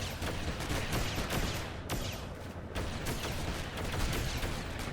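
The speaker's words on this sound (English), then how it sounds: "Can you stop firing for 5 goddamn seconds? Can you firing rockets at my house?" Rapid bursts of gunfire and rocket blasts from the LEGO Batman video game, a dense and continuous barrage of overlapping shots and booms at moderate level with no speech.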